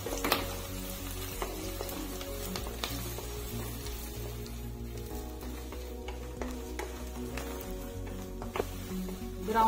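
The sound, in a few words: onions and cumin frying in pan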